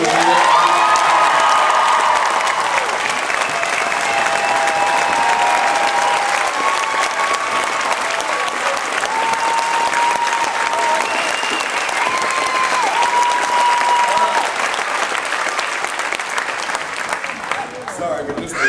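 Sustained applause and cheering from a live theme-park game-show audience at the final Who Wants To Be A Millionaire - Play It! show, loud and steady for the whole stretch, with whistles and shouts rising above the dense clapping.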